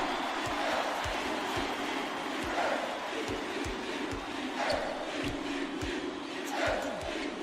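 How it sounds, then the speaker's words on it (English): Crowd at a college basketball video game: a sustained, loud roar of cheering voices with chanting swells, over a rhythmic series of low thuds like a bouncing ball. "Listen to the crowd, Vern. This kind of excitement is why I love college basketball."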